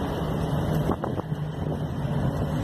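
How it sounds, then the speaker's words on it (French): Steady wind rushing outdoors on a mild day, a continuous broadband noise with a low rumble beneath, loud and unbroken throughout with no voices. "Il y a un peu de vent"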